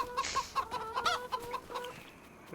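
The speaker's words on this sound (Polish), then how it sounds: "No co te kury nie uciekają nigdzie?" Chickens clucking in the Farming Simulator 25 video game, a close series of short rhythmic clucks and squawks repeating about every quarter second, fairly clear over a quiet background.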